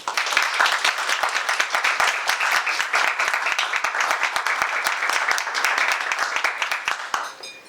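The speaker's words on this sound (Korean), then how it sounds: "김홍빈 상무님께서 앞으로 큰 박수로 모시겠습니다." A crowd at a tooling program graduation ceremony applauds as a company director is welcomed to the front. The clapping is sustained and moderately loud, with distinct individual claps inside the dense patter, and it fades out near the end.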